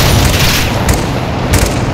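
Heavy gunshots ring out in a video game campaign mission, two sharp booms about half a second apart over a loud, busy background of game noise.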